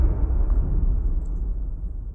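A deep trailer-music boom impact: a heavy low-end rumble that rolls on steadily for a couple of seconds, loud and dark with no bright top, heard alone.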